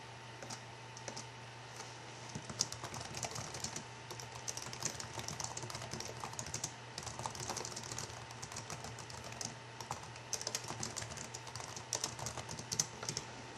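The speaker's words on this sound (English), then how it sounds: "I'll retype that." Rapid typing on a computer keyboard, close and clear, with dense bursts of key clicks, brief pauses between runs, and a steady low electrical hum underneath.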